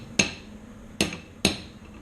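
Three sharp metallic knocks as a 32mm ring spanner drives a bearing onto a Land Rover Freelander prop shaft, struck at uneven intervals, close and fairly loud with no voices.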